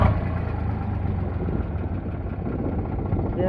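A 2014 Eicher 368 tractor engine idles at a steady low rumble, close and even, running alone without talk.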